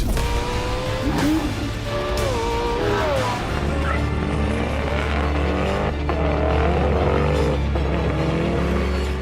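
A car engine growls and revs through its exhaust, rising and falling in pitch as it accelerates, loud and close with a rumbling low end.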